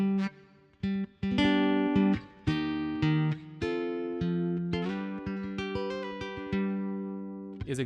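Major arpeggios on a flat 6, flat 7 and 1 chord progression in a major key, bright plucked notes cascading in quick ascending runs, separated by short breaks, played close and clear with no talking.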